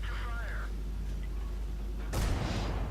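A single loud tank cannon shot in a tank battle video game, a sharp broadband blast around two seconds in, followed by a heavy rumbling decay, over a low steady engine drone and brief faint electronic tones earlier.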